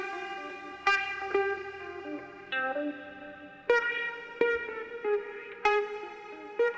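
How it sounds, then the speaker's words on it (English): Electric guitar layered into a beat, played through effects with echo, chorus and reverb, plucked melodic notes ringing out in a steady phrase with sharp attacks, moderately loud and alone. "I went ahead and added a little bit of electric guitar"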